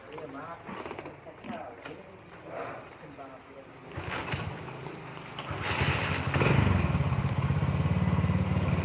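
Honda Win motorcycle engine idles and revs nearby with a rough, uneven putter that grows louder and busier toward the end, while people talk over it.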